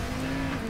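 A car skidding and drifting in PAYDAY 2, with a steady tire squeal over continuous engine noise, close and loud for a brief moment.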